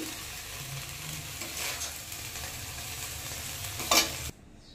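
Dheki shak fern greens sizzle and crackle steadily in a pan while being stirred, with scraping strokes throughout and a louder clatter just before the sound cuts off.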